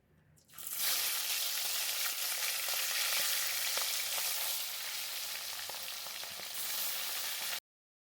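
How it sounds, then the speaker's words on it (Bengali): Pieces of katla fish frying in hot oil, a dense, continuous crackling sizzle that swells in after a quiet start and stays loud and close until it cuts off, with faint stirring and no voices. "তো মাছগুলো ভাজা হয়ে গেছে, এবারে আমি নামিয়ে নেব।"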